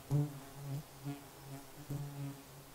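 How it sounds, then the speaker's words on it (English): Midges buzzing close around the ears outdoors, a faint low droning whine that swells and fades in a few uneven pulses. "All we can hear at the moment is a midges flying about my ears,"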